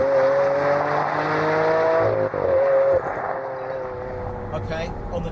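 A Lamborghini Aventador LP700-4's 6.5-litre V12 holds a steady, droning engine tone that dips slightly partway through, running beneath continuous talking.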